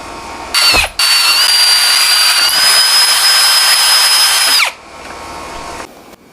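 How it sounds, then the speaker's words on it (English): A power drill whines steadily at high pitch for several seconds, biting into a metal plate at a centre-punched mark, then winds down and stops. "So I dotted it, so now I'm going to drill it."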